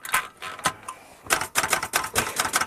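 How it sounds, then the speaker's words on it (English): Typewriter hammered hard in a radio drama set in a rest house, its keys clacking in rapid irregular bursts like machine gun fire, close and loud, with the carriage rattling between volleys. "the noise of his typewriter comes through the thin walls of the rest house like relentless machine gun fire"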